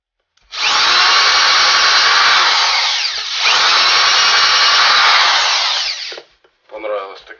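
An electric drill bores into material in two long, loud, steady whining bursts with a short pause between, followed by a brief rattling spin-down and a short extra burst.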